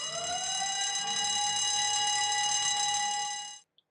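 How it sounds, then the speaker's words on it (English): A site evacuation alarm sounds from the weighbridge at a port, a loud continuous electronic tone rising briefly at the start and then holding steady for several seconds before cutting off abruptly. "an evacuation alarm will be triggered from the weighbridge, which sounds like this"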